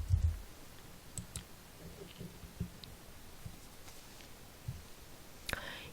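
A few sparse, quiet mouse clicks while selecting a reservation button on screen, isolated taps against a faint background hiss.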